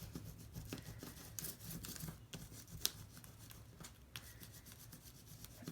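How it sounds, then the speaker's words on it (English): Coloring over a textured collagraph print to rub up its texture makes faint, quiet, repeated scratchy rubbing strokes. "I'm going to go over my collagraph print, or the texture beneath"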